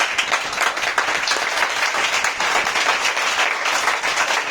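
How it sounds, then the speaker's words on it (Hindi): An audience claps for Suman Didi at a networking company's achiever event, a thick, loud, continuous roar of many hands close by that never lets up. "जबरदस्त तालियां सुमन दीदी के लिए, जबरदस्त तालियां होनी चाहिए।"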